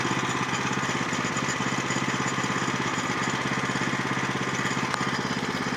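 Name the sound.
blower blowing off sawdust at a sawmill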